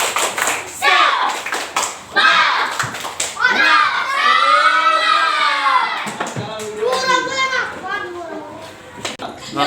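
Classroom children clap a rhythmic spirit clap together in quick patterned bursts, while young voices chant and talk loudly over the clapping.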